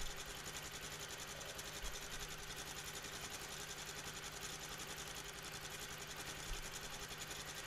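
A quilting machine stitching a quilt, a fast, even mechanical hum with a rapid needle rhythm, running steady and fairly faint the whole time with no talking.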